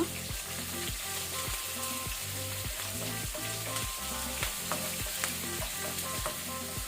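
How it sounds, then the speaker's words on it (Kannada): Steady oil sizzling and crackling in a pan as garlic, urad dal and curry leaves fry on low flame, with a repeating scraping rhythm from stirring throughout, close and fairly loud, no voices. "ಈಗ ಲೋ ಫ್ಲೇಮಲ್ಲಿ ಇದನ್ನು ಫ್ರೈ ಮಾಡ್ಕೊಳ್ಳುವ."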